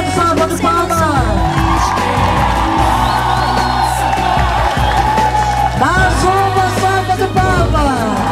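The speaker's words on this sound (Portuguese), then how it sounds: "Uma grande salva de palmas." Crowd applause and cheering at an outdoor torch-of-unity rally in Praça dos Heróis, Quelimane, a steady loud mass of clapping and shouts lasting throughout with amplified voices and tones over it.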